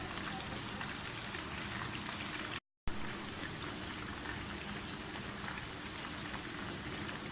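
Chicken pieces coated in semolina and gram flour fry in hot cooking oil, giving a dense, even crackle and hiss that runs throughout with one very brief dropout, and no voices.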